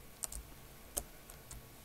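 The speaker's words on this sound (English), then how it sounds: "I've noticed my keyboard is so loud to the microphone because I'm on a laptop" Typing on a laptop keyboard, a handful of soft, sparse key clicks close to the microphone over a quiet background.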